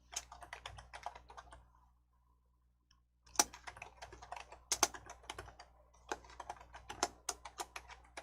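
Fingers type on a computer keyboard in a quiet room, a close, faint patter of rapid key taps with a short pause in the middle, then a resumed burst of clicks.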